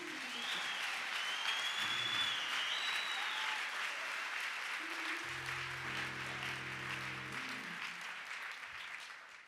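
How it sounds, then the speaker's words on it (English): A church or ministry audience claps together for several seconds in dense, sustained applause, faint and a little distant, with low organ or keyboard tones sounding underneath. "Clap your hands if you can."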